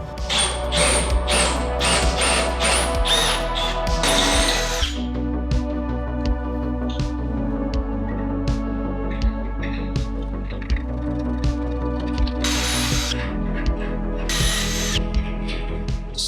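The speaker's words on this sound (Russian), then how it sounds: "Сейчас принесу мечик, все-таки стоит пробить резьбу." A cordless screwdriver spins a thread tap to cut a thread while a big-block engine stand is assembled. A loud, close motor whirr comes with ratcheting clicks and short bursts that start and stop several times.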